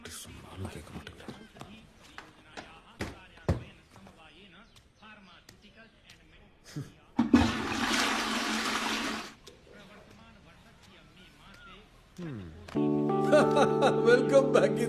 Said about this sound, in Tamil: ஒண்ணுக்கு போனா அதை அழுத்தினா தண்ணி வரதுக்காக தான் அதை வச்சிருக்காங்க